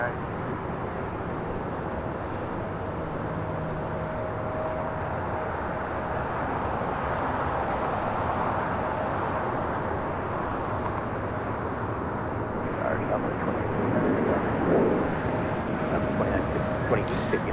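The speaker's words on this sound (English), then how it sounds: "next departure here on the south side at 25 right, Delta Airlines flight 521 heading to Dallas Fort Worth, Texas, and an old Northwest A320" A Delta Airlines A320, an old Northwest jet on flight 521, departs runway 25 right on the south side of LAX: a steady, broad jet roar that swells slightly toward the end, with voices underneath.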